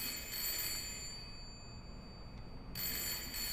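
A telephone rings in the horror game Layers of Fear, two bright electronic ring bursts at the start and end separated by a quiet gap, clear with no talking.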